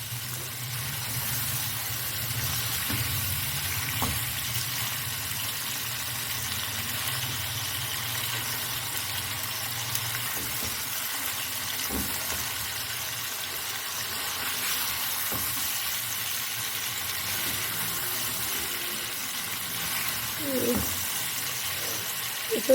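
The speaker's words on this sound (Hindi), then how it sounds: "इसे हमें अच्छी तरह से भून लेना है यहाँ पे।" White korma gently frying in a pan gives a steady, soft sizzle that runs continuously under a low background hum, with a few faint clicks and knocks.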